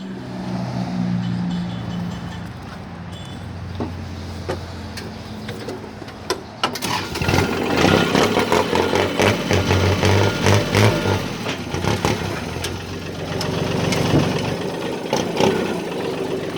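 Kubota 36 hp tractor from 2011 fires up after a quiet stretch and settles into a steady, loud diesel idle with a dense mechanical rattle, running on alone without talk.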